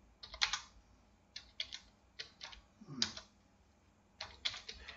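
Typing on a computer keyboard while filling in an income certificate form, heard as several quick runs of light key clicks with short pauses, close and fairly quiet, with no talk.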